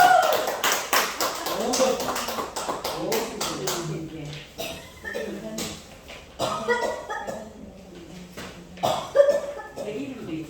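Church congregation at a Wednesday prayer meeting clapping in a brisk burst of close, sharp claps that fades after a few seconds, followed by scattered claps and a later smaller burst, with voices talking in between.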